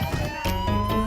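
A siren wails loudly during a drag competition show, a steady tonal sound that sits under a busy, mixed backdrop.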